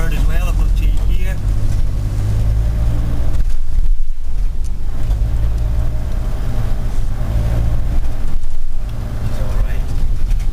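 Hydrogen hybrid Ford Transit van driving in third gear, its engine and road noise forming a loud, steady drone inside the cabin, with people talking over it throughout.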